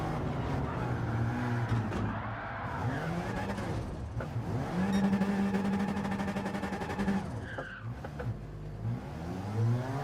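Race car engines roar through a sim racing session at Brands Hatch, revving up and down through gear changes with tire squeal and passing cars, loud and continuous across the whole stretch.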